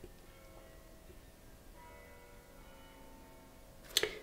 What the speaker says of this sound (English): I hear the bell tower outside